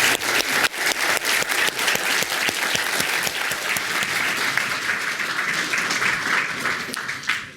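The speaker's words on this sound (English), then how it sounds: "give a round of applause for her" An audience at a public talk on war powers and political order breaks into sustained applause, a thick wash of many hands clapping that stays loud and even for over seven seconds.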